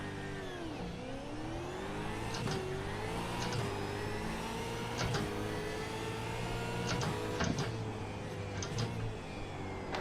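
V8 race cars launch from a standing start at Donington in a racing video game, a dense layered engine drone whose pitch climbs steadily as the cars pull away, with occasional brief clicks and no talking.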